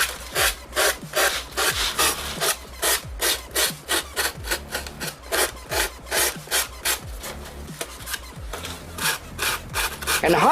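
Foam board coated with hot glue is sanded by hand in quick, regular back-and-forth strokes, a close, loud, rhythmic rasping scrape that repeats steadily throughout.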